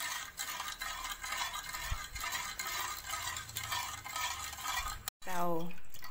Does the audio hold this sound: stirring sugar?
yes